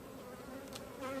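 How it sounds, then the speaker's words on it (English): Honeybees hum in a dense, steady buzz during a hive inspection, a close swarm drone that swells slightly at the end of the brief moment. "The bees are getting a little more active."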